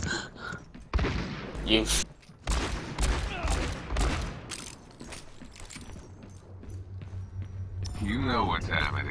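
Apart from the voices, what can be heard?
gunfire in Overwatch video game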